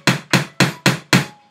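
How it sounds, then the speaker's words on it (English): A hammer drives a loose nail back down in five loud, close, evenly spaced strikes, each a sharp bang that fades quickly. "hammer that guy back down."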